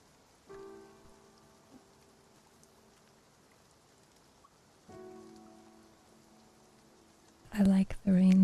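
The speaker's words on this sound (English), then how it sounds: "I like the rain sounds in this game." Steady soft rain falling in a video game, a faint continuous patter with two brief louder swells, and a burst of speech near the end.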